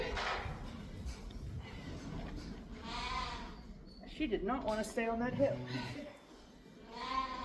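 A sheep bleats loudly and repeatedly while being shorn, its wavering cries coming close and mixed with a person talking to it.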